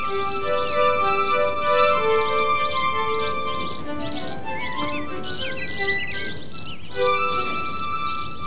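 Small birds chirp and tweet in quick, high bursts, several calls overlapping at a moderate distance against a quiet background.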